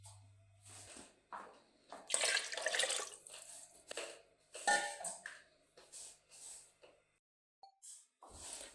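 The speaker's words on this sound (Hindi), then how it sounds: "अब इसके अंदर हम पानी डालेंगे" Water poured into a pot of moong and masoor dal while cooking, heard as a series of splashing, gurgling pours with short pauses, fairly close and moderately loud, with no talking.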